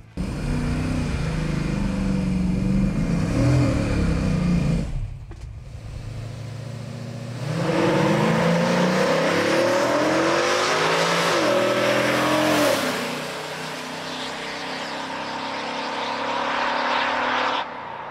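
A Ford Granada sleeper car accelerates hard with manual shifts, its engine revving up in loud rising pulls, a brief drop at each gear change, then a second long climb before easing off, with no talk.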